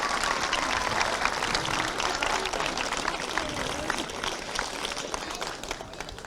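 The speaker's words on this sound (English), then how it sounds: "So get a round of applause, please, for Kinnegad GAA for making the facilities available to us." Crowd applause for Kinnegad GAA after an All-Ireland club final between Granemore and Athleague, a steady dense roar of clapping with cheers mixed in, sustained and fairly loud throughout.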